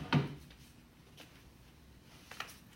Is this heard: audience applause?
no